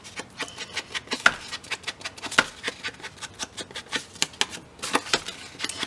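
Vintage book cover paper being folded and creased by hand, a series of close, crisp rustles and sharp paper snaps in irregular rhythm.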